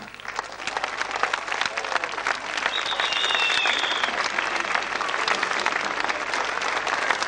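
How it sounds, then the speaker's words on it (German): Guests applaud after a holiday club gala show, sustained dense clapping from an audience with a brief whistle partway through, steady and fairly close throughout. "Den Applaus haben Sie verdient."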